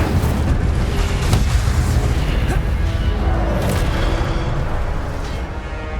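Incendio fire spell cast in the Hogwarts Legacy video game: a dense, loud burst of rumbling, crackling blast noise that roars steadily for about six seconds before easing slightly at the end, with no talk over it.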